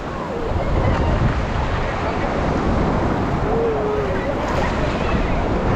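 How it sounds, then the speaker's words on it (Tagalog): Ocean waves wash onto a beach in a steady, loud rush mixed with heavy wind buffeting the microphone, with faint voices in the background. "yung may hampas ng alon"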